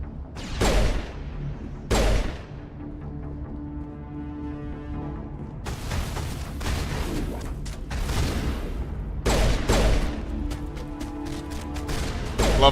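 Grenade blasts and gunfire in the Mass Effect sci-fi shooter: several sharp, loud bursts spaced a few seconds apart over a steady layer of game sound, with dense explosive clusters near the middle and end.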